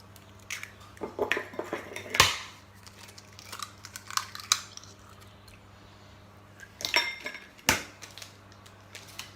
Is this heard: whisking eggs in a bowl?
yes